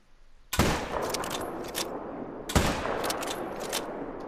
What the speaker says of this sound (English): I don't think I should have took that shot